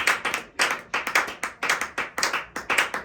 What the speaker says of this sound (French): j'aimerais que tu t'acclames toi-même.